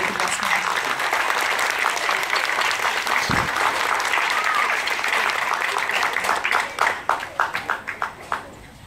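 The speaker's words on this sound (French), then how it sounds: "Je voudrais quand même qu'on puisse déjà applaudir tous ces enfants qui ont donné le meilleur d'eux-mêmes" A school audience applauds children at an end-of-year ceremony, sustained dense clapping filling most of the span before thinning into scattered individual claps at the end.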